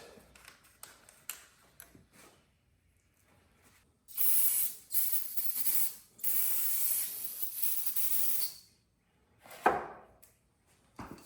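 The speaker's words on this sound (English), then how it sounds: "I'm gonna put a couple spacers on these carb studs so we can run these nuts back down" A ratchet clicks rapidly as nuts are run down onto the carburetor studs of an old barn-find engine, with bursts of steady ratcheting between pauses and handling noises, close up and without talk.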